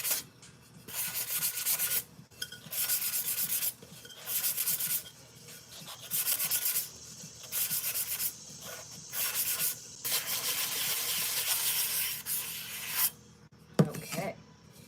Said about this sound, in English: Now I'm going to sand the outside.